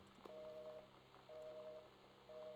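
Telephone dialing in the video game Gone Home: three short, faint dial tones repeat at an even pace over a low background hum.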